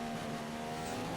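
A Formula 1 car in the racing video game F1 2015 runs a lap of Canada, its engine holding a steady high, buzzing drone with no breaks, close and fairly loud, with no talking.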